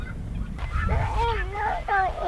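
Guinea fowl near modular chicken coops give loud, nasal honking calls at close range, over a low rumbling background.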